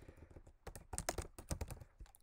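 Fingers type on a computer keyboard, filling in an online order form for a delivery service. The keystrokes are close and come in quick, uneven bursts with short pauses, and no one speaks.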